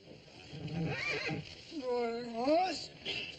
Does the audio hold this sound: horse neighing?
yes